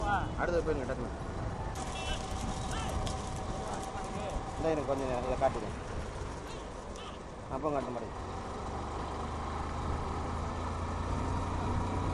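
Racing bulls in a bullock cart race thunder past outdoors, their hooves clattering under loud crowd shouting and commentary, with engine noise in the background.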